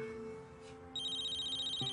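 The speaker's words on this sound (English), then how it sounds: "My cell's ringing." A cell phone rings with a steady electronic tone that starts partway through and keeps going, moderately loud, over quiet indoor room tone with no talking.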